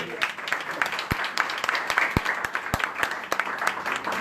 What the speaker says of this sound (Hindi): सारे बोल हाथ ताली बजा के धन्यवाद करेगा